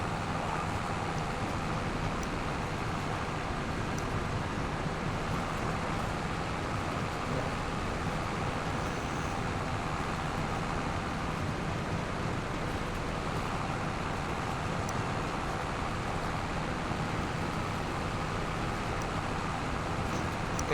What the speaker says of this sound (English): I'm gonna turn the tractor off so you guys aren't listening to it.